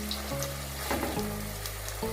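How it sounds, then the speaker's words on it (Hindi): Mutton pieces fry gently in oil with onions for mutton kunna, a steady low sizzle running throughout, close and moderately loud, with faint stirring or clatter partway through and no speech. "1 से 2 मिनट के लिए हम ऐसे ही ऑयल और अनियन में हल्का सा फ्राई करेंगे"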